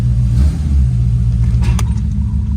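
Low, steady engine rumble from a 1989 Corvette idling slowly while being checked for a misfire, a continuous close drone with a faint uneven pulse and no talking over it.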